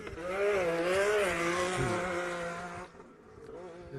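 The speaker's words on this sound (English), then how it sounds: "just playing around, sliding around the corners, doing a little drifting" A 2019 Polaris RZR Turbo S side-by-side drifts around corners at an off-road race, its engine revving in a rising and falling whine with tire scrub, then easing off into a quieter idle.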